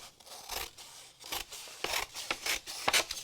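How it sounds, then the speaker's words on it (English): Scissors snip through strips of paper for mixed-media holiday tags, a series of about seven crisp close cuts in uneven rhythm, quiet with no talking. "I'm going to just cut some strips."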